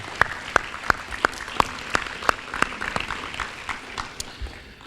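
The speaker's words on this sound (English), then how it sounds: "for our TAP graduates, a round of applause." An audience at a teen pregnancy prevention awards ceremony applauds graduates, starting with a few sharp, regularly spaced loud claps that blend into softer, scattered clapping from the crowd.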